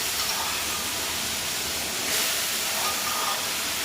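Chopped potatoes and jackfruit seeds sizzle in a hot pan for a jackfruit seed curry. The loud, continuous frying hiss stays close and steady throughout, with no talking.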